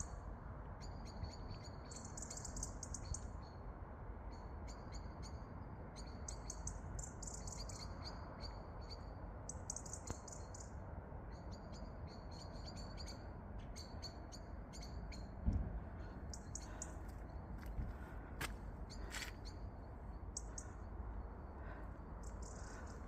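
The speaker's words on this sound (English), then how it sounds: "I'll just let you appreciate the silence and the bird song for a minute." Birds chirp and twitter steadily through the trees of a quiet Cheshire village in autumn, light calls scattered over a faint, constant outdoor hush, with no voices.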